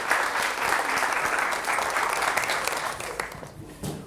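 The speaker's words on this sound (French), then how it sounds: "On l'applaudit très fort." A television game show studio audience applauds a contestant as he comes on, steady close clapping lasting about four seconds and tapering near the end, with a few voices faintly underneath.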